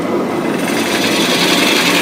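Lathe gouge cutting wood while turning a Beads of Courage box, a steady loud rasping scrape that carries on without a break, with no talking.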